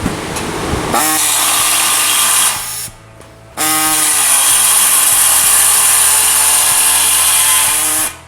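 A power saw rips through 14 gauge steel sheet metal in two loud, sustained cuts, the blade screaming with a metallic ring, separated by a short lull near the middle, with no talking.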